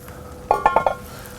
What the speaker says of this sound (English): Let's take the lid off here and have a look.